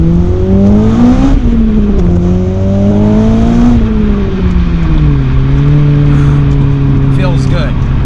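A Honda Integra Type R with a K20A engine and cold air intake revs hard and loud, the pitch rising and falling in smooth sweeps with a constant roar close by and no talk.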